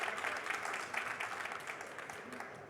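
Audience applause at a university awards ceremony at Funéraire Paris 2025, a fairly faint, even patter of clapping from a crowd that fades slightly over a few seconds.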